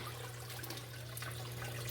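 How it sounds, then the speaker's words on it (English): Water poured steadily into a fish tank during cleaning, a continuous close trickling and splashing with a low steady hum underneath, no voices. "Now we are pouring the water in."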